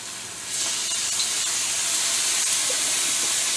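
Onions, ginger and garlic hit a smoking-hot wok and burst into a loud, steady sizzle that jumps up after a brief quieter start and holds as a bright, continuous hiss with no talking.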